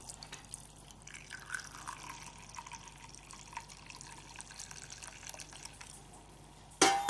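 Oil-infused water with black seed oil is strained through a cloth filter, making a soft, continuous trickle and dripping at low level, with a sudden louder splash near the end.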